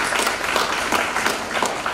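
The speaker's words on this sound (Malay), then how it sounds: "Kita berikan tepukan yang paling gemuruh kepada orang" Applause rises from an audience at a state-level launch ceremony for a national training week, a brief, even stretch of clapping in a large hall with no voices over it.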